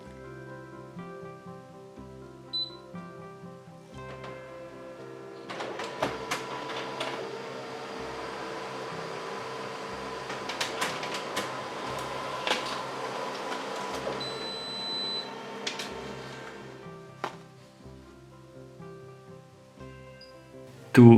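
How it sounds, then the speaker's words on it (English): A Canon MF660 series colour laser printer hums and whirs through a print job, rising to a steady mechanical drone with clicks and clunks from the paper feed, then winding down to a final thump. "Let's print a document for demonstration from the mobile."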